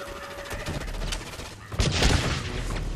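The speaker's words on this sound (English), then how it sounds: "One nade incoming." A grenade blast in a 3v3 competitive shooter match lands as a low thump that swells into a broad, loud burst near the end, mixed in with steady gunfire throughout.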